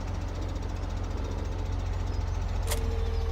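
A tractor engine in the farming game Farming Simulator 17 drones steadily at a low, throbbing idle, loud and continuous throughout, with a brief bright hiss burst near the end and no talking.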